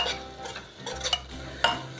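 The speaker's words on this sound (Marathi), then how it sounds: "हे सर्व साहित्य घातल्यानंतर आपण 1 ते 2 मिनिटांसाठी हे मसाले सर्व परतवून" A spoon stirs and scrapes spices sautéing in oil in a pan for a spiced corn dish, giving quiet clinks and scrapes at an uneven rhythm over a faint background, with no one speaking.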